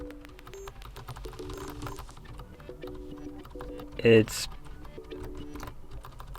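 Keys on a Xiaomi membrane keyboard are pressed in a light, irregular run of soft taps, with a louder thump near the end, while a person talks quietly over them.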